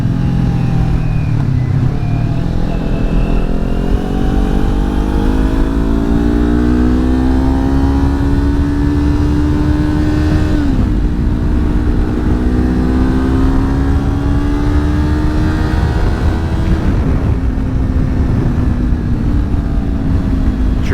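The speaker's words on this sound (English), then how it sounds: "I'm getting blasted by this wind." Strong gusts of 20 mph plus wind roar steadily over a Ninja 400 motorcycle while it is ridden, loud and constant, with the engine droning and rising through the gears beneath the buffeting.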